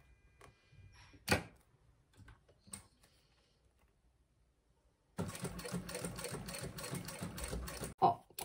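A sewing machine stitches the seam of a bag in a steady, rapid mechanical run lasting several seconds, following scattered handling clicks and knocks.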